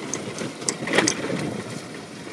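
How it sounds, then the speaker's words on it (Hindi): A motorbike engine runs steadily at a moderate level on a rain-washed mountain track strewn with stones. It gives a continuous mechanical drone with a few brief rattling bursts and no talking. "और बाइक में भी इतनी आवाज आ रही है ना।"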